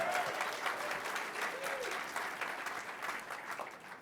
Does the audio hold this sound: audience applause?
yes